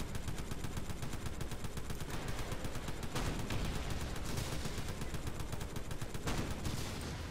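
Continuous rapid gunfire from a mounted gun in the zombie-survival video game Left to Survive, a dense unbroken rattle lasting several seconds at moderate level with no speech.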